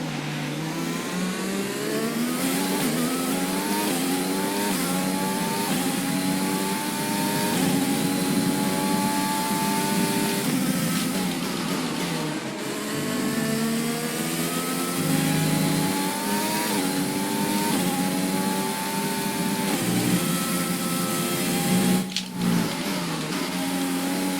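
A Formula 1 racing car engine in F1 2020 screams loudly and continuously, climbing in pitch through repeated upshifts, with brief drops and lifts as the revs rise and fall on track.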